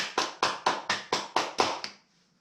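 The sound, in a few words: people clapping hands to a song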